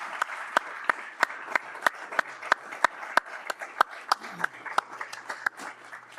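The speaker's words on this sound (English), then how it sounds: "join me in a round of applause for Annie, Doug, Chris, WTI folks, etc." Audience at a Colorado River conference panel applauds with a fairly thin round of claps, a steady rhythm of sharp individual hand claps over a soft background of more clapping.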